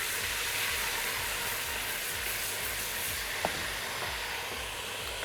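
Ginger and garlic paste sizzles in a hot pan with golden fried onions for yakhni pulao, a steady, even hiss and crackle that continues without pause throughout.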